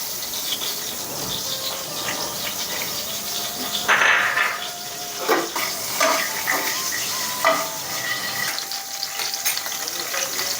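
Whole spices, namely dried red chillies, a star anise, cinnamon and cumin, hit hot oil in a pan while tempering spinach khichdi. A steady close sizzle runs throughout, with stirring clinks and scrapes breaking through at intervals.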